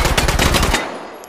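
A PPSh-41 submachine gun in 7.62x25 fitted with a drum magazine fires one loud, rapid burst at a shooting range, roughly eight shots close together, then cuts off abruptly and rings away into silence.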